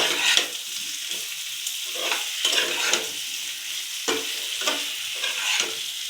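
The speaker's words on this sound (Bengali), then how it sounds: "একটু আলুর দমটা আমি একটু নাড়াচাড়া দিয়ে নেব।" Small boiled potatoes for aloo dum are stirred in a pan of hot oil, soft sizzling under repeated scraping and shuffling strokes at an irregular rhythm, close up with no voices.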